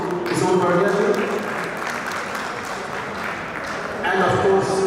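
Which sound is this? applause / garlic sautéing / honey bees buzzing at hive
applause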